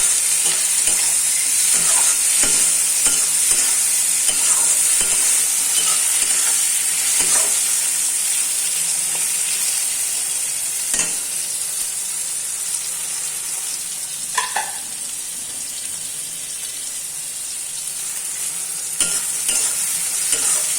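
Spices sizzle and fry steadily in a hot pan for a fish curry, with occasional stirring scrapes and clicks; no voices.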